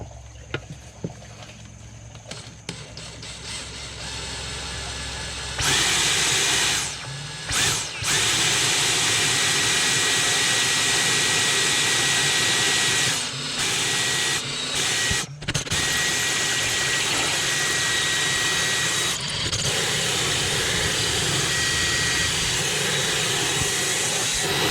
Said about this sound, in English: Probably the hardest part right there, drilling the hole.